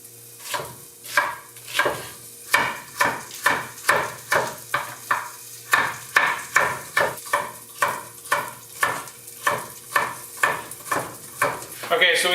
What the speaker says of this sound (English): I got a carrot here, some celery, and an onion. I'm going to go ahead and get that diced up there now.